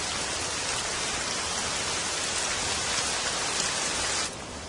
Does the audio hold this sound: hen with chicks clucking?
no